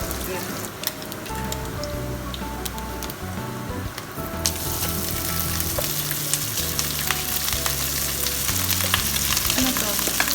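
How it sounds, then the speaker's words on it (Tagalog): Fried rice sizzles and crackles steadily in a hot pan for a Filipino silog breakfast, with stirring clatter and a louder burst of frying midway, under people chatting nearby. "We're making a fried rice."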